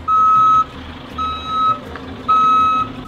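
A stone delivery truck reverses with its backup alarm sounding three long, loud beeps at a steady pace over a low engine rumble.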